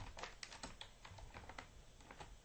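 Rapid clattering keystrokes on a computer keyboard, typed in an irregular burst of clicks at close range with no voices.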